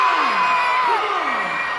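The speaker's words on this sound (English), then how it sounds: "Make some noise if you think Mosen won the competition." An audience at a science event cheers and makes noise for Mosen, a loud burst of whoops and sliding shouts over continuous crowd roar.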